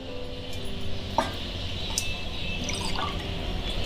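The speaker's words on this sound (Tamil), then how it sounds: "இதால் 3 வந்து ஜலம் விடுறேன்." Water poured into a pan of broken rice while cooking a traditional Tamil meal, a steady, moderately loud stream with small drips and splashes throughout and no talking.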